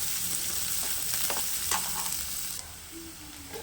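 Finely chopped onion sizzles in hot oil in a pan for a jackfruit seed curry, a steady close crackle and hiss with a few louder bursts and no voices.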